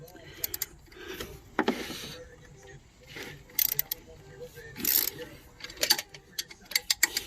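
A wrench loosens a 14 mm bolt on the upper engine mount of a 2006 Toyota Sienna, giving irregular bursts of quiet ratcheting clicks and small metallic taps, close and fairly soft.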